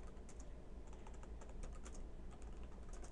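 Steady computer keyboard typing, a quick run of faint, closely spaced key clicks over a soft background hiss with no talking.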